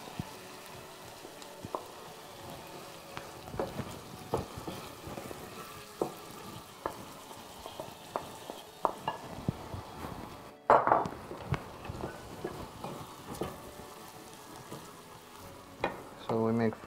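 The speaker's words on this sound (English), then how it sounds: "So we fry also our onions together with our meat before we put anything else." Onions and meat fry together in a pan with a steady close sizzle, broken by frequent scraping stirs and light clinks of the utensil against the pan.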